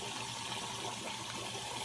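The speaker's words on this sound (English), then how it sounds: "got the water going. It's really hot now" Hot water running steadily from a tap into a sink, a constant close gush with no talk over it.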